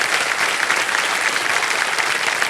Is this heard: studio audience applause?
yes